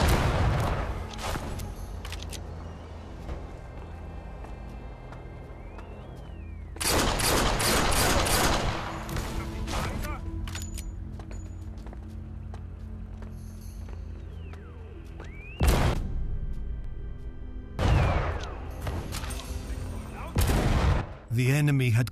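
Gunshots from the sniper shooter Sniper Elite VR come in loud, separate bursts and clusters of cracks with echoing tails, set against a steady low ambient game bed with no talking.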